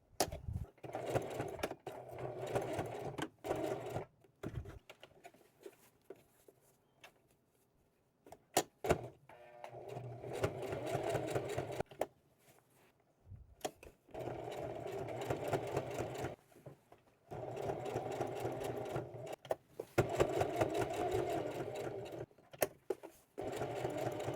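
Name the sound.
sewing machine stitching tote bag strap, backstitching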